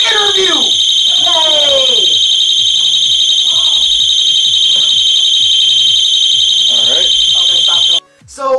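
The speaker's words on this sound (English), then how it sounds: "Someone pulled the fire alarm during my interview!" A fire alarm blares nonstop indoors during a fursuit convention interview, a loud, piercing steady tone holding for about eight seconds before cutting out, while people talk and exclaim underneath.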